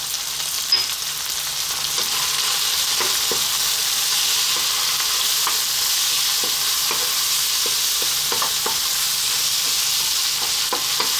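Chili, turmeric and coriander powder sizzling in hot oil in a pan for a green bean coconut curry, a steady loud frying hiss with occasional soft spoon scrapes and clicks, no voices.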